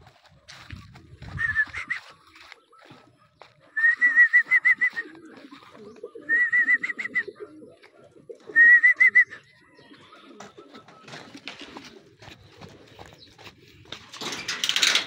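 Racing pigeons arriving at a loft after a training race from Lumban, Laguna, with several bursts of wing flapping and bird calls from the birds landing close by, between stretches of quieter activity.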